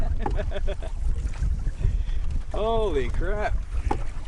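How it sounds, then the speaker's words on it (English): Wind blows against a canoe paddling upriver into a headwind, a steady broadband rush with water and paddle noise underneath, while people talk and exclaim over it. "right now we have a front-facing wind"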